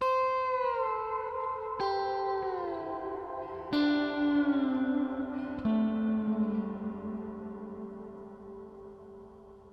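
Sustained slide guitar notes gliding between pitches, damped with the right hand, each new note struck cleanly every couple of seconds with smooth, damped transitions and a touch of reverb.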